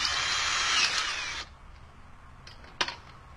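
A power drill bores a larger hole for a pop rivet, whining loudly and steadily for about a second and a half, then stopping, followed by a few faint clicks and a brief knock.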